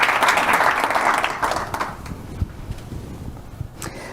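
An audience applauds as speakers are welcomed onto a stage at a Chicago talk event, dense clapping that gradually thins into scattered claps and fades, with a few knocks near the end.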